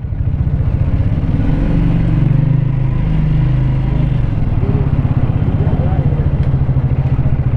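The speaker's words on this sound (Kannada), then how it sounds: "ಎಕ್ಸಾಸ್ಟ್ ಈ ಥರ ಕೇಳಿಸುತ್ತೆ. So let's go for a ride." Triumph Speed 400 motorcycle exhaust during a ride, a steady loud engine drone with a dense low thrum and slight rises in pitch, continuous throughout.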